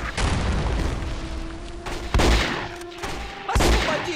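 Gunfire in the PC shooter Contract J.A.C.K., a sustained dense burst of rapid shots with heavy booming impacts, two louder blasts punctuating the barrage, no talking.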